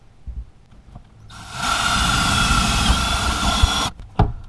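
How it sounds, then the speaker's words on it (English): A power drill whines steadily for about two and a half seconds as it bores through material in a bus during water inlet installation, with a few clunks before and after. "I'm going to drill through to see where it comes out on the other side"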